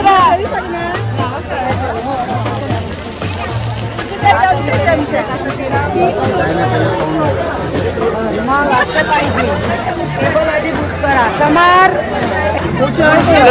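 A dense crowd packs the food stalls at the Versova Koli seafood festival in Mumbai, with loud continuous chatter and overlapping voices all around and a steady low drumming beat underneath.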